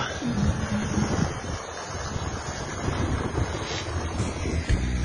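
A sulfur water spring flows at Pustomyty, giving a steady, loud rushing and gurgling wash with wind buffeting the microphone throughout and no talking.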